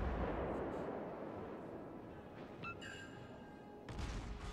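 Naval gunfire from the Cleveland cruiser in the World of Warships video game: a steady roar of distant salvo booms, with a brighter burst of firing near the middle and another swell near the end.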